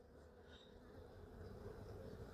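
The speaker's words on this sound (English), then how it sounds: "Give the bees enough time to get out of the way." Honeybees buzzing during a hive inspection, a steady, faint droning hum that persists throughout and swells slightly near the end, with no one speaking.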